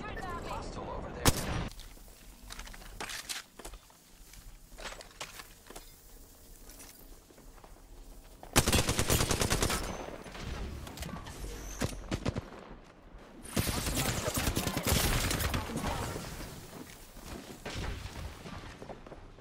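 Gunfire crackles in the video game Arenas, with scattered shots early on and then two dense, loud bursts of rapid firing separated by a brief lull.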